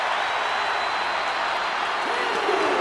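Arena crowd in the WWE 2K24 wrestling video game cheering and clapping as a broad continuous roar, with a commentator talking over it.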